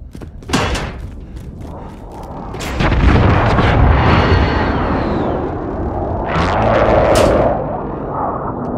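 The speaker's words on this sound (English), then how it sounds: "friendly precision airstrike inbound" Precision airstrike explosions in the video game Call of Duty Warzone land as a series of heavy booms and thuds with rumbling tails, some close and sharp, others duller and more distant.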